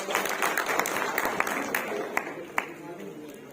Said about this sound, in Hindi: जोरदार तालियों से हमारे राम नरेश जी का स्वागत किया जाए